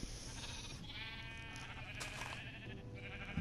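Sheep in Minecraft bleat a few times over a steady low game background hum, the calls moderately close and not very loud.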